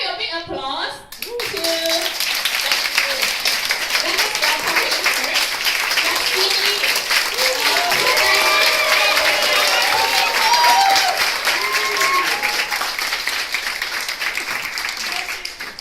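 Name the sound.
audience applause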